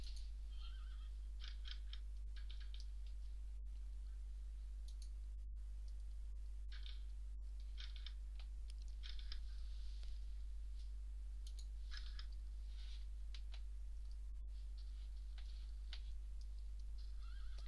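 A horse in the Minecraft video game whinnies and neighs in short, repeated calls, mixed with sharp clicks over a constant low hum, all fairly faint.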